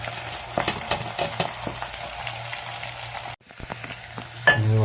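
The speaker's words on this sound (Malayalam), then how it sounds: "പച്ചമുളക് വാടി ഉള്ളി ഇടാം." Onion and green chilli frying in a pan for a Kerala sardine curry: a steady, close sizzle with scattered stirring scrapes, a brief drop in level partway through, then a louder burst of sizzling as the stirring resumes.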